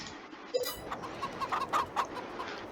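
Chickens in the farming game Farming Simulator 22 cluck in a quick run of short, fairly soft calls against a quiet background.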